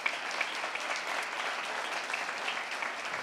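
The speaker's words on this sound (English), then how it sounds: "let's go ahead and give these intermediate exhibitors a big round of applause" Audience applause for intermediate exhibitors at the Allen County 4-H dairy goat show, a steady wash of many hands clapping throughout, moderately loud and even, with no speech over it.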